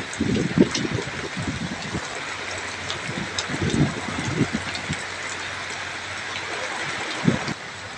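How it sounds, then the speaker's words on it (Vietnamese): Heavy afternoon rain pours over the Chợ Gạo canal, a dense steady hiss with water-like rushing and a few low thumps, no voices. "Mưa rất lớn luôn á các bạn."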